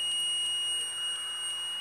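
Multimeter on continuity mode beeping while probing a coil on an Asus X450LC laptop motherboard, a steady high-pitched electronic tone held for about two seconds, with soft intermittent ticks, no talk.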